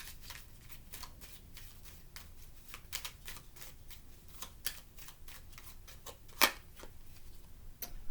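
Tarot cards are shuffled by hand in a steady run of soft riffling flutters and taps, fairly quiet and close, with one sharper snap near the end and no voices.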